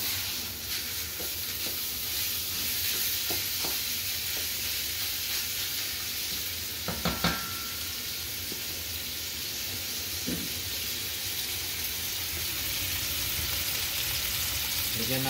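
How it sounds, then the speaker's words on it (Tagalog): Ground meat frying in a pan with browned garlic, a steady loud sizzle and hiss throughout, broken by a few clinks and scrapes of stirring, with someone speaking briefly over it. "So, ilagay na natin yung karne na giniling."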